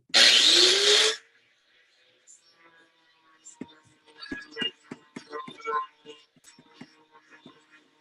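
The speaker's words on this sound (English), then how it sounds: "it doesn't take long with that big grinder" A big coarse-wheeled grinder grinding down a segmented wood turning: one loud, harsh burst of about a second up close, followed by quieter scattered knocks and handling sounds.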